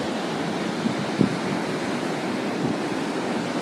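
Ocean waves roll onto Daytona Beach, a steady broadband roar of surf with some wind rumble, continuous and fairly loud with no voices.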